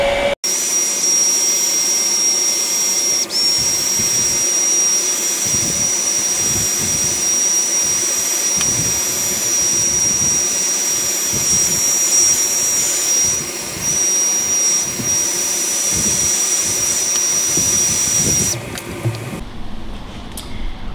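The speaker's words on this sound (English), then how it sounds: "I've got my handy dandy heat gun here. We're just going to heat up that heat shrink tubing and we're gonna get it nice and tight" A heat gun blows with a continuous loud whooshing roar and a faint high whine, shrinking heat shrink tubing around a battery pack, running steadily for most of twenty seconds before cutting off near the end; no talking.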